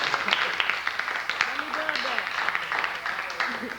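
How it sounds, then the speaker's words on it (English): Audience clapping at a 1999 jazz and poetry gig in Augsburg, moderate applause with scattered louder claps, while voices talk and call out over it. "Don't stop clapping. Give another big one."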